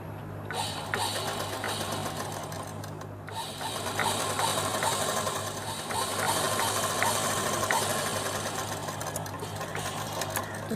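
A sewing machine stitches a straight seam on a top made from leftover fabric, whirring and ticking steadily up close with one brief pause early before running on.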